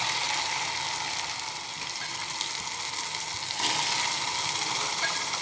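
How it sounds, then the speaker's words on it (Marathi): Masala sizzling steadily in hot oil while being sautéed for chana ghugri, a continuous bright frying hiss with faint stirring, close and fairly loud throughout. "चांगला मसाला होऊ द्यायचा, तेलामध्ये चांगला परतून घ्यायचा"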